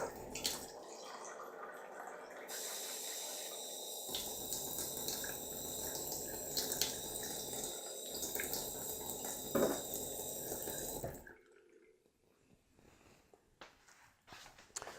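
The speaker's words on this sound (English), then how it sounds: "I'm going to pour in 200 millilitres of water" Water pours steadily into a measuring cup with a bright, splashy rush for several seconds, then stops, leaving a quiet room.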